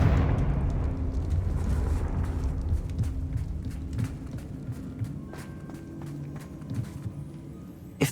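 Bombarda and Confringo spell blasts in the video game Hogwarts Legacy: a heavy, rumbling low-frequency burst with a dense roar that rolls on and slowly fades, with a few later thuds and a final sharp hit.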